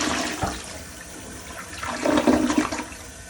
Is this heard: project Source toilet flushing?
yes